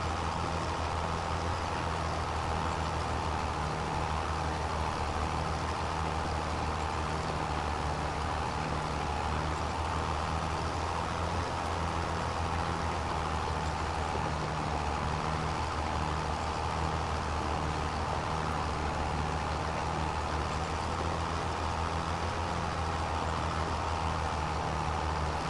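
A huge tractor's engine in Farming Simulator 25 drones at a steady, loud, unbroken level for the whole stretch, with no speech over it.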